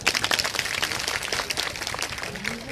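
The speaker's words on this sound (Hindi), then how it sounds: "इनके लिए जोरदार ताली बजाओ।" Listeners at a Bhagwatam katha in Noida break into a lively round of hand clapping, with dense, uneven claps close by that carry on steadily for a few seconds.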